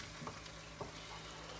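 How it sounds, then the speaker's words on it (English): Fried rice sizzling steadily in a hot pan, a constant frying hiss with a few brief scraping stirs, close and alone with no talk. "I'm going to let it kind of start frying a little bit more"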